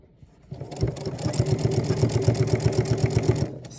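A sewing machine stitches binding onto a quilted coat, starting up and running at a steady, rapid rhythmic hum with a regular pulsing chatter for about three seconds before stopping, close and fairly loud, with no talking.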